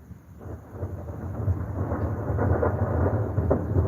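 Thunder rolls and rumbles continuously through an overnight desert thunderstorm near St. George, Utah, building in loudness over a few seconds, with a hiss of rain underneath.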